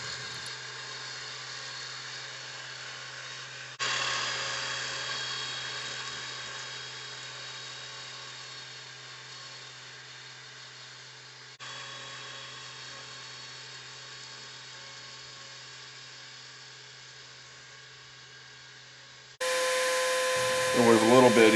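A mower cutting grass on an open platform area lined with locust trees gives a steady, droning engine hum that runs the whole time, with brief shifts in pitch and a louder, rougher burst near the end.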